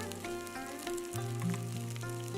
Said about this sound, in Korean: 팬에 들기름을 자작하게 넣고 크게 썰어 놓은 두부를 넣고 소금을 뿌리고 익혀줍니다.